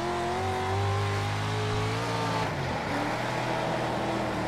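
A dirt-track race car engine in World of Outlaws racing, screaming at high revs with steady harmonic whine, wavering and dipping as it bounces near the rev limiter, loud and continuous.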